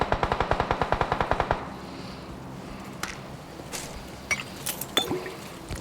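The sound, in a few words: gunfire in a video game (PUBG)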